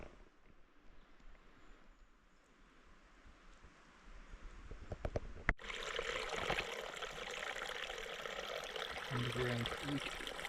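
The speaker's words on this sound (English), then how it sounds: "Underground creek." Underground creek flowing through a cave-like spot, a steady broadband rush of water that swells louder about halfway through and continues without talk.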